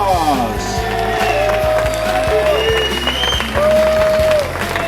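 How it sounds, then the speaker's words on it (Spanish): Crowd applause rings out at a motorcycle racing podium ceremony at the Circuito de Navarra, steady clapping from a gathered audience continuing throughout under a loudspeaker announcer's voice. "Fuerte el aplauso para Miguel Santos."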